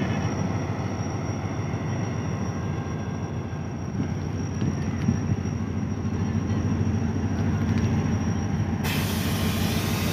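An HGMU-30 diesel locomotive, number 8222, holds a steady heavy rumble as its engine notches, with a broad constant hiss. The roar is close and sustained and gets slightly louder toward the end. There is no talk.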